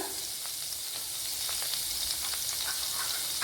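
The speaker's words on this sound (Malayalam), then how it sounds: "ചട്ടിയിലേക്ക് ഒരു ടേബിൾ സ്പൂൺ വെളിച്ചെണ്ണ ചേർത്തിട്ടുണ്ട് അതിലേക്ക് ഒരു കാൽ ടീസ്പൂൺ ഉലുവ ഇവിടെ ചേർത്ത് കൊടുക്കുക" Fenugreek seeds sizzle in a tablespoon of hot coconut oil in a pan, a soft, continuous hiss with faint crackles, heard alone and fairly quiet.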